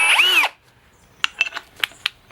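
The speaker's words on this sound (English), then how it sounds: "go ahead and grab your drill bit. It is really thick, so make sure your drill bit can take it." A power drill with a thick bit bores into a part from a 1JZ/2JZ engine being torn down: a loud, rising motor whine for about half a second, then a few sharp scattered clicks and knocks.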